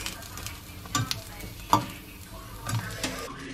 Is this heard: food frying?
yes